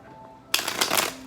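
A deck of tarot cards is riffled in one quick shuffle, a close, crisp burst of flapping card edges after a moment of near silence.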